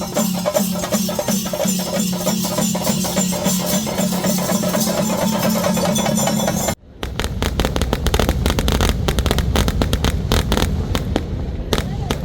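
Fireworks at a temple festival at night: a dense barrage of sharp bangs and crackling bursts, loud and nearly continuous, with a brief gap before a second rapid volley.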